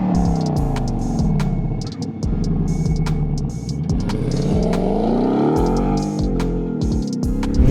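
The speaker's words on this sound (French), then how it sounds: "on a encore un gros V8 5 litres qui fait vraiment un vrai bruit de zinzin" The 5-litre V8 of a Ford Mustang GT, over 450 hp, revs repeatedly up and down in a loud, close burbling growl, with rising and falling throttle sweeps and sharp crackles between pulls.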